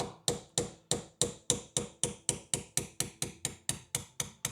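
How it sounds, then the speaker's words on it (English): A hammer taps repeatedly on a part being driven through an engine head with valve damage, about nineteen sharp metallic strikes in steady rhythm, close and clear, the ringing pitch shifting gradually as the part moves. "You can hear that change in the pitch when I'm tapping it as it moves through"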